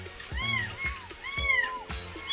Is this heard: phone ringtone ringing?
no